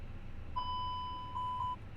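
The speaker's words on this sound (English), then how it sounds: "Something's beeping." An electronic warning tone sounds in a Microsoft Flight Simulator cockpit: one steady mid-pitched beep lasting about a second, with a slight break near its end, over a low engine-like hum and no talk.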